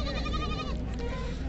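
A goat bleats with a loud, wavering, quavering call through the first half at a Dewas goat market, over steady crowd murmur and background voices.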